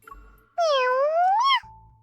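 A cat lets out a single clear, drawn-out meow close by, rising in pitch at the end, with quiet surroundings before and after.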